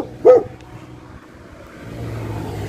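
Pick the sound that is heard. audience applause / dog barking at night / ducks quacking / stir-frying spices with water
dog barking at night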